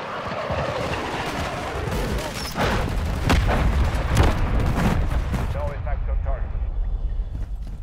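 Air strike explosions in the video game Call of Duty: Modern Warfare III, during a team deathmatch: a dense, continuous rumble of blasts and gunfire, loud and close, with heavier booms landing in the middle.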